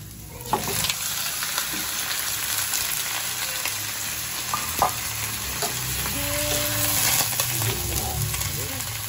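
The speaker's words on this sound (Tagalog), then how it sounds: "nagluto ng chicken adobo" Chicken adobo cooking in a dark pan gives a steady sizzle with occasional stirring clatter, running continuously at moderate loudness while voices talk intermittently over it.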